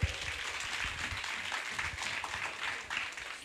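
Audience at a children's arts event gives a steady wash of applause for a band, dense continuous clapping heard from within the crowd.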